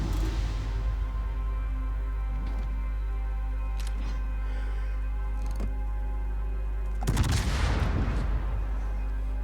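In World of Warships, aboard the cruiser Annapolis, scattered distant gun reports pop over a steady low drone, then a loud close blast bursts near the end and rumbles away.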